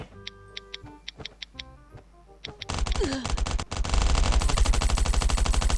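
Gunfire in the survival game Last Island of Survival: sparse ticking shots at first, then a loud, dense burst of sustained automatic fire with heavy booming noise filling the rest.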